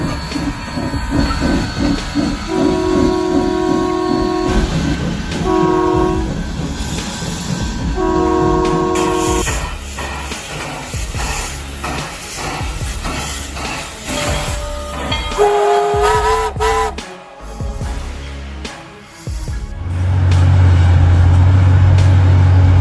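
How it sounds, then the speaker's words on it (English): Steam locomotive setting off with its bell ringing in repeated bursts over a loud, continuous roar and hiss, building to a deep horn-like blast near the end. "A steam locomotive is setting off. Its bell ringing amid the deafening roar of this classic beast."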